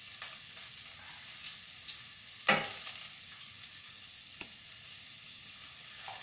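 Garlic hitting a hot pan while cooking cod with vegetables: a steady soft sizzle runs throughout, with one sharp louder crackle partway through, and no one talks.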